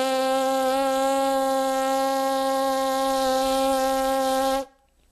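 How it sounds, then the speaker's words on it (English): A trumpet player buzzes the lips alone through a tight embouchure, making a steady, rich, rasping tone that holds evenly for several seconds and then stops abruptly. "just blow your air through the lips, and you should get a sound something like this."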